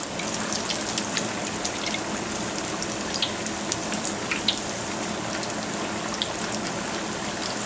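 Egg foo young frying in a pan, a steady dense crackling hiss with scattered small pops running continuously, close and fairly loud, with no talk.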